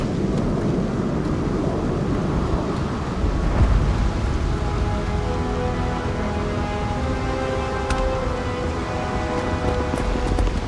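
Thunder and rain roll over a lightning-powered city in the video game Starfield, a continuous loud rumble with a swell of deeper booming partway through.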